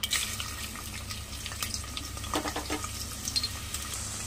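Chopped onion pieces go into hot oil for a spicy mutton bones curry with amaranth leaves, giving a steady close sizzle and crackle with a few brighter spatters over a continuous frying hiss.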